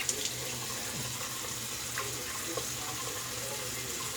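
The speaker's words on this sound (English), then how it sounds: "take out the half blade here, rinse it out, and I'm gonna leave it open to dry" Tap water runs steadily while a half-blade razor (the Twig from Leaf & Phoenix Shaving) is rinsed at a sink, a constant close faucet gush with faint clinks, no talk.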